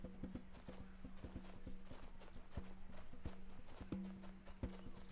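Horse hooves clip-clop at a steady walking pace in a Gabriel Knight: Sins of the Fathers game scene set in New Orleans' Jackson Square, the hoofbeats close and distinct over a busy ambient background with faint chirps.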